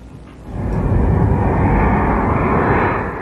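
U.S. F-16 attack jet passing, a loud rising roar of engine rumble that swells within half a second and holds steadily to the end.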